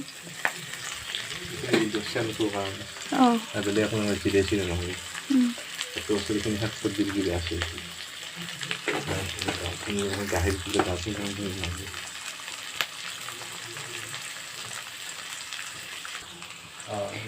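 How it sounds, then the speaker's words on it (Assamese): Onions fry in a pan for a pork dish, a steady sizzle with stirring scrapes running throughout while someone talks over it. "পিঁয়াজখিনি ভজা হৈ গৈছে।"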